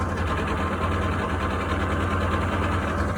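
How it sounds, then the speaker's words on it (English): Outboard boat engine idling steadily right after a cold start that took three tries, smoking briefly as it burns off old oil; a continuous close, even low rumble with no voices. "as you can see, the engine is started"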